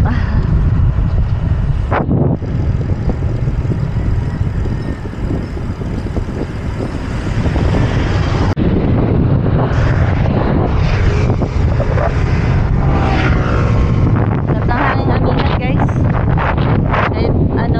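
Strong wind buffeting the microphone during a morning couple's bike ride on Kennon Road toward Baguio, a loud continuous roar with heavy low rumble and gusting swells, a voice faintly mixed in.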